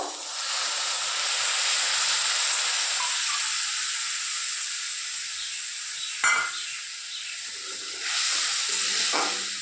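Tamarind water hits a fried spice paste in a pan for a Bengali fish curry, giving a steady hiss and sizzle that slowly fades, with a few faint clinks and stirring noises.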